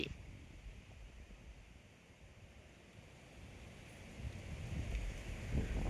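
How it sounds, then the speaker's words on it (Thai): Strong wind roars steadily outdoors, a broad rushing noise that buffets the microphone and swells louder toward the end, with no voices. "มื้อนี่ก็ลมเบิดมื้อ"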